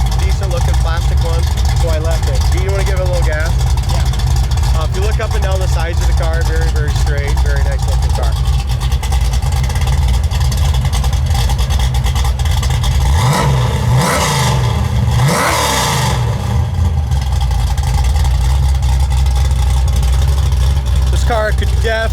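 A 1973 Camaro engine, parked at a classic car dealership, gives a short burst of loud revving near the end, under steady nearby conversation.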